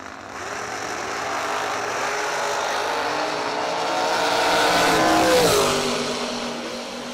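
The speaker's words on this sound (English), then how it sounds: "Brittany dialed in 482 to a 578 for Bruce in the Kel Code Camaro" Drag racing cars, including a Camaro, roar at a bracket racing event, one loud sustained engine swelling to a peak and then fading, with no talk over it.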